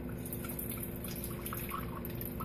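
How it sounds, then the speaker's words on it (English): Cold iced water being poured from a cup into a separate bowl, a steady close-up liquid pour with a soft continuous wash and no talking. "I'm actually going to pour some of the cold water into a separate bowl,"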